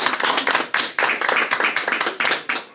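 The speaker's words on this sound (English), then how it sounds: "give her a round of applause." A small church congregation clapping steadily at a Sunday service, close and fairly loud, a brief burst of applause without talking.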